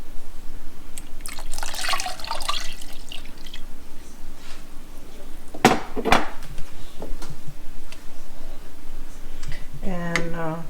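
Milk pours into a pot of potato leek soup with a brief liquid rush, followed by a sharp clank of a pot or utensil and a few later splashes, over a steady kitchen background.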